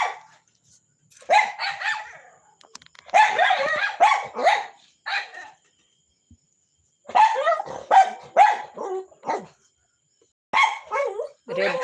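A dog barks in bursts of several quick, nearby yaps with short quiet gaps between, some whiny and high-pitched.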